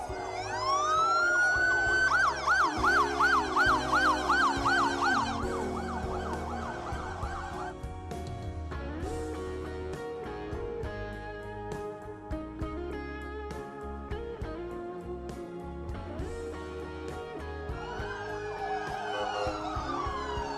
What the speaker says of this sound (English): they're a little bit noisy with those sirens